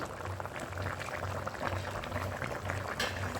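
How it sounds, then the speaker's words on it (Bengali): Vegetables for shukto simmer in a covered pot, a steady bubbling boil with a soft low rumble and fine crackle that carries on evenly throughout, close and moderately quiet, with no talking. "আমি ঢাকা দিয়ে দিয়েছি সবজিটা সেদ্ধ হওয়ার জন্যে।"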